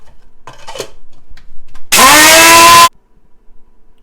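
An electric spice grinder whizzes curry leaves and nihari spice mix in one loud, steady burst of about a second, preceded by faint handling noises and followed by quiet.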